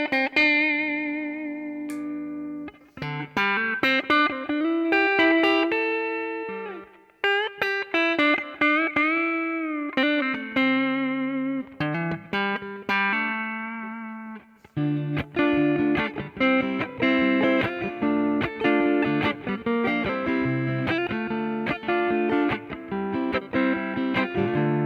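Electric guitar played through a Fractal FM3 amp modeler, a sustained, distorted lead line of bent and held notes that moves into denser rhythmic chords, loud and continuous with no voice.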